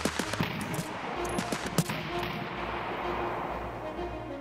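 Enemy machine gun fire in Escape from Tarkov, loud and fairly close: a stuttering burst of sharp shots with echoing reports over a steady rumbling ambience, dying away into a lingering roar with no more clear shots.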